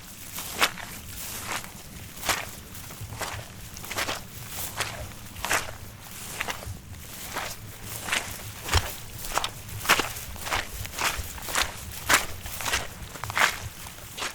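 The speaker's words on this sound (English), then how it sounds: "what it sounds like with the Zoom H6 when I walk through this swamp." Footsteps squelch and splash through a swamp, each step a sharp wet burst in a steady walking rhythm, close to the recorder with no talk.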